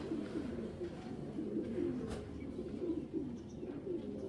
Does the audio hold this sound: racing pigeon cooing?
yes